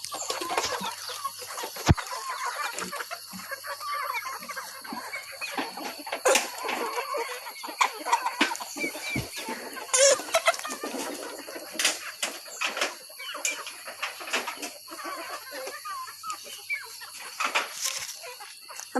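Chickens cluck and squawk intermittently at close range, with occasional wing flaps and scattered rustling throughout.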